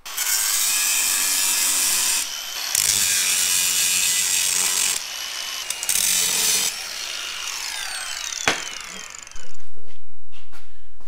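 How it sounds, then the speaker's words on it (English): An angle grinder cuts into metal on a Jeep, a loud, continuous high-pitched scream that briefly dips and resumes several times before a sharp clack and a final sustained burst of grinding. "It's time to break out the old grinder."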